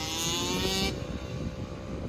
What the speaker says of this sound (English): Dude with the two-stroke gonna try and run down on him.